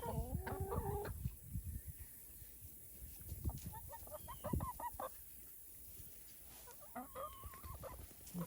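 Hens cluck in a backyard coop, among them a broody hen, with several close, uneven calls and squawks in bursts and quieter pauses between them.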